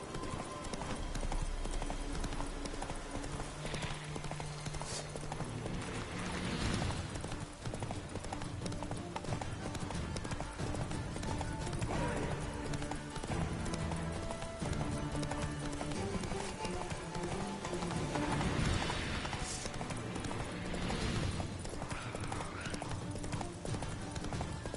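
Galloping horse hooves in The Witcher 3, a steady rapid clip-clop running throughout the whole stretch over a busy game soundscape with background music, fairly loud and continuous.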